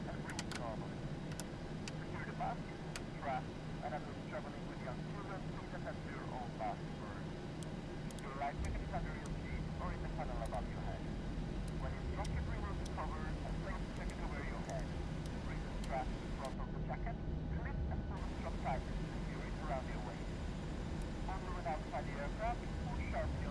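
A Boeing 737 NGX in a PMDG flight simulator spools up during engine start, a steady droning engine hum with faint clicks and cockpit chatter continuing underneath throughout.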